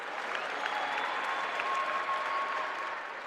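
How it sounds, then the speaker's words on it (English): Crowd clapping at the Africa Netball Cup 2024 ceremony in Swakopmund, Namibia, a steady sustained round of applause from many hands, fairly distant with a faint tone ringing over it. "give yourselves a wonderful round of applause"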